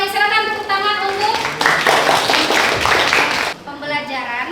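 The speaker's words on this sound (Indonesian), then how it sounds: "silakan tepuk tangan" A class of children claps in response, a burst of applause from a roomful of students breaking out between stretches of a teacher's voice, close and fairly loud.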